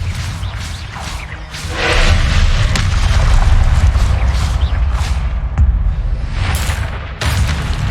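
Confringo blasting spell explosions in the Hogwarts Legacy video game, a loud booming rumble with whooshing bursts and sharp cracks that sustain and swell across several seconds, with no speech.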